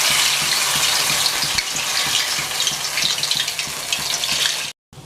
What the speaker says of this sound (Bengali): তেলের মধ্যে ছেড়ে দিলাম।